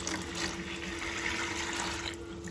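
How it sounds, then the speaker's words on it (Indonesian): Plain water poured in to mix car wiper fluid, a steady splashing fill that runs at an even level and eases off near the end, with no talk. "ini saya mau saya isi terlebih dahulu ya, saya campur dengan air biasa."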